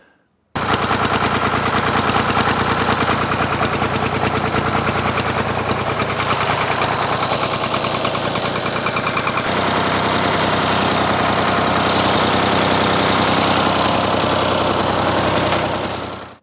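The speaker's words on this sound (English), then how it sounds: "those two audios clearly show the difference between this thing firing on 2 cylinders with that front one misfiring and actually being able to operate on all 3 cylinders" Ford 4000 diesel tractor engine runs loud and close, first rough and uneven on two cylinders with the front one misfiring, then smoother once all three cylinders fire, a steady knocking idle throughout with no talk.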